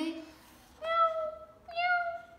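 A voice imitates a cat, giving three drawn-out mewing calls with short pauses between them. It is close and fairly soft, set within a children's hide-and-seek story.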